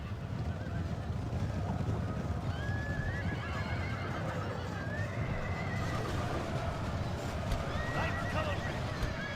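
Cavalry horses of horse archers in the Medieval II Total War video game neigh and whinny repeatedly over a dense clip-clop of hooves and rushing battle noise, with voices mixed underneath.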